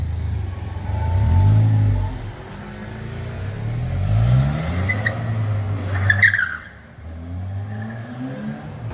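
A Polaris vehicle's engine revs up and down in rising and falling sweeps, loud and close, with a brief tire squeal mid-way before it settles to an idle.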